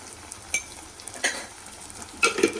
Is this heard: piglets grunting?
no